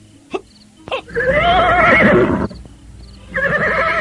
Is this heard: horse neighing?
yes